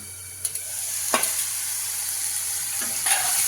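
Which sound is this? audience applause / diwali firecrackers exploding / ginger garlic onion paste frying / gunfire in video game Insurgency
ginger garlic onion paste frying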